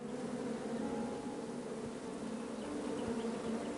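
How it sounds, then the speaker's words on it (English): Bees buzz steadily in a PS4 video game, a dense, constant droning hum that stays fairly near and unbroken, with no talking over it. "Bees! I ruined the bees' day."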